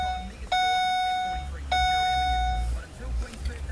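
The dashboard of a Holden VE Commodore gives two clear electronic chime tones about a second apart when the ignition is switched on, ringing out over a low background hum.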